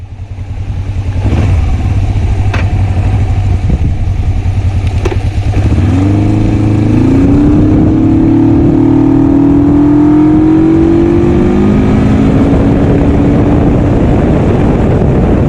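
A 1980s Suzuki GS450A automatic motorcycle rides along a road, its engine droning loud and steady and rising in pitch as it accelerates, recorded close with no talking.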